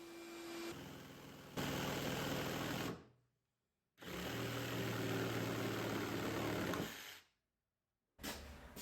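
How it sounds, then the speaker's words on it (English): An overfull workshop vacuum runs in loud, steady bursts while boards are cut, starting and stopping twice with brief silences between, its drone carrying a hum and a whining tone. "my vacuum got completely full and all the extra dust was just shooting out everywhere"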